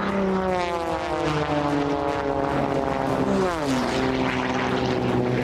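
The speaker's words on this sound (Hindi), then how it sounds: "नीची उड़ान भरते हुए मैदान में लगे खंभों के बीच से कलाबाजी खाते हुए गुजरने लगा" A small propeller aerobatic race plane flies low between pylons at a race, its engine drone loud and continuous with a clear pitch drop as it passes close by.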